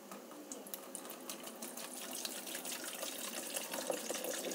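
Running tap water pours into a kettle in a steady stream, fairly faint, with a gurgling tone that rises slightly as it fills.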